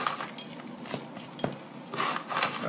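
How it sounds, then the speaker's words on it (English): Crushed pepper is pressed and rubbed into a sirloin steak for steak au poivre, giving soft, faint scraping and rasping with a few light knocks on a board. "I'm going to take all this pepper and we're going to press it right into the steak."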